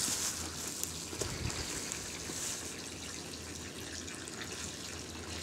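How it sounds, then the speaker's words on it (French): Water from a hose runs steadily into a freshly sown garden seed row outdoors, a faint, continuous hiss and trickle with no clear breaks. "Et là après, on fait couler l'eau dedans"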